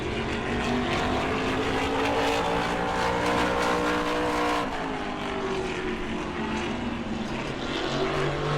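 A NASCAR Whelen Modified race car screams through a solo qualifying lap at New Smyrna, a loud high-revving engine whose pitch climbs along the straightaway and then drops sharply as it passes close by.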